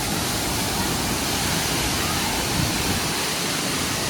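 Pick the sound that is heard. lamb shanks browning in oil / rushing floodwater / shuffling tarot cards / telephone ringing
rushing floodwater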